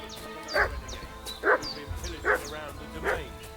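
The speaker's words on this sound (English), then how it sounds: "What's that dog making such a fuss about?" A dog in the video game Kingdom Come: Deliverance II barks in four evenly spaced, loud, close yaps over a faint background, with no talking.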